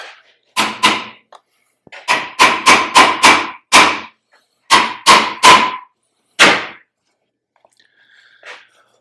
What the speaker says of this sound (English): give that a whack with the hammer